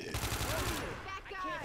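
Rapid, loud gunfire from automatic weapons in Left 4 Dead 2 during a zombie shooter game, a dense burst of repeated shots that fills the whole moment up close.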